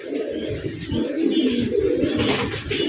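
Male red Lahori pigeon cooing close up, low throaty rolling coos repeating steadily over about three seconds with no other sounds.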